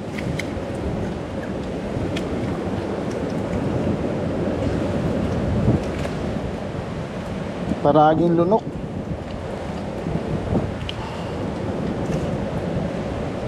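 Strong ocean surf roars in a continuous rough wash, with wind buffeting the microphone throughout. A voice speaks briefly partway through.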